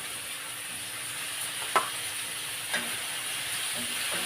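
Sliced bitter gourd (ampalaya) goes into a pan with tomato and onion and sizzles steadily, a continuous close frying hiss with a couple of brief sharp clatters of stirring.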